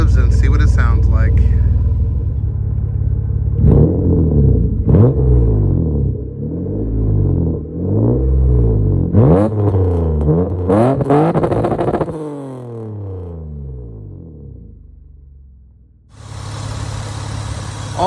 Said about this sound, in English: Let's give it a couple revs and see what it sounds like.